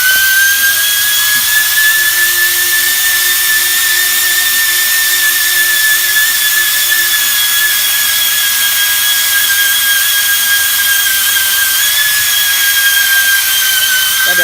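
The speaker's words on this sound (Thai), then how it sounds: "เดี๋ยวให้พี่เขาเจียระในเหมือนเดิม" A rotary grinder buffs out a small puncture hole in a tire, giving a loud, steady high-pitched whine that holds without pause from start to finish.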